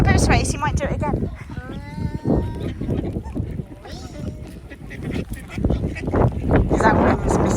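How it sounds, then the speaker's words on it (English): Ducks quack loudly and repeatedly close by on a windy, rainy day near a parked car, their calls mixed with people talking over them. "Very naughty ducks today."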